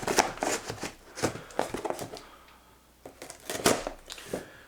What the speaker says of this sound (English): So let's just go ahead and cut open the box.